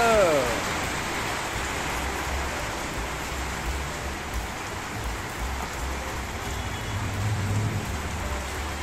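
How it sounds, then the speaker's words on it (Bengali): Heavy rain falling outside, a dense steady hiss of drops pattering on surfaces, loud and continuous throughout, with a faint low rumble beneath and a brief voice at the start. "আর বাইরে দেখো পুরো বৃষ্টি।"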